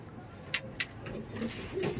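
Pigeons coo softly in a loft, a faint low murmur with a few sharp clicks and rustles close by.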